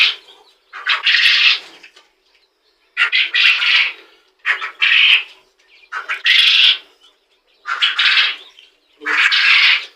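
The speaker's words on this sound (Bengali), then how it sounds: "পুরুষ পাখিগুলোই মনে হচ্ছে চিল্লাচ্ছে বেশি" Farmed quails, mostly males, call loudly and close in six evenly spaced bursts of harsh, buzzy chirping, each about a second long, with silent gaps between them.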